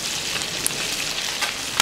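Small wild river fish frying in a salted wok, giving a dense, even, close hiss with a few brief crackles and spits over its short length, no one speaking.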